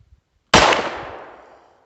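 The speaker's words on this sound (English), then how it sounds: "we're just going to take a couple shots, kind of see where it's hitting at" A single sharp, close gunshot from a Beretta U22 Neos pistol cracks out of near silence and trails off in a long, fading echo, with no voices.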